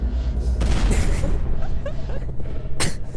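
Two booming explosions in a Roblox horror game, one early and one near the end, with a voice talking between them.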